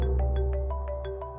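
A phone rings with a repeating electronic ringtone, eight quick regular chimes over a steady sustained tone, loud and close in an indoor drama scene.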